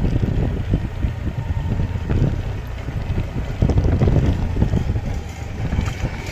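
Steady, loud wind roar buffets the microphone throughout a ride on a new scooter, with a constant rumble and no voices.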